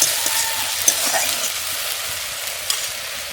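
Onions and masala frying in a pan in a village kitchen, a steady close sizzle throughout with occasional soft stirring taps, no talk.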